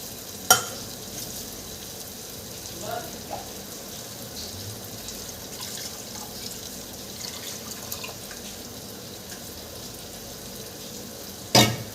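Masala sizzles as it is sautéed in hot oil, a continuous close crackle and hiss with soft stirring, marked by sharp utensil clicks at the start and end.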